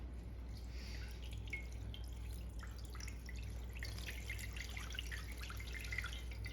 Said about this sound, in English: Now I'll put water in about halfway up to this trivet